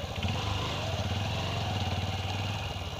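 Manual clutch motorcycle engine running while riding, a steady, close, throbbing mid-pitched drone with a rapid pulsing rhythm that holds constant throughout, with no voices.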